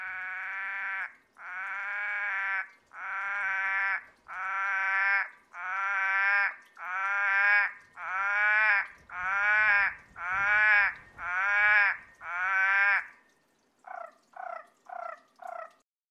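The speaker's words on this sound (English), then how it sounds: "The following showcase of Australian frogs begins with eastern species of tree frogs" Eastern Australian tree frogs calling: a series of about eleven loud, evenly spaced bleating calls of around a second each, then four shorter, quicker calls, close and clear with no background.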